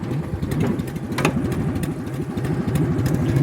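An old, cheaply bought tractor engine runs steadily in high range gear, a loud close chugging drone with a rapid low pulsing rhythm and no talk over it.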